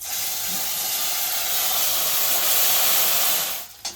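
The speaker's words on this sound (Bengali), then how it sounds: "এবার জিরে আর লঙ্কাটা দিয়ে দেবো" Cumin and dried chilies hit hot oil in a pan, giving a loud, steady sizzle that holds for about three and a half seconds before dying away.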